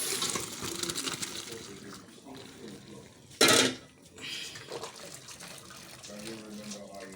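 Water from cooked macaroni pours and splashes briefly through a sieve, a short loud gush amid kitchen clatter and running-water noise.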